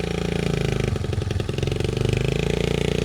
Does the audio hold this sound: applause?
no